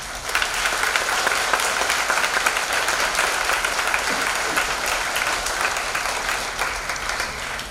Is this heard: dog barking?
no